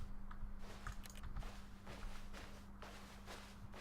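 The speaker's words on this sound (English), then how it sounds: "It's just me or my footsteps getting louder." Footsteps walk through corridors in The Stanley Parable as a series of soft, regular thuds over a low steady hum, fairly close and without speech.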